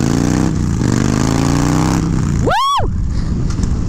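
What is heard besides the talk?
motorcycle engine, Dyna bike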